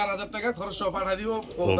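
Coloured Rajgolla pigeons at a pigeon seller's give soft, low cooing close by, mostly under a voice as he talks over them.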